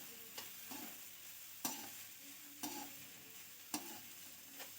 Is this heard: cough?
no